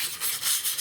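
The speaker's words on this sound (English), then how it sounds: "So now I'm just kind of in the final sanding." Rough 2x4 wood guitar body being hand sanded in final finishing, a close, continuous rhythmic scratchy rubbing with short back-and-forth strokes.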